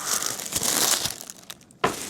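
Louis Vuitton damier-print tissue paper crinkles and rustles close by during an unboxing, a busy scrunching that eases off, then one sharp crackle near the end.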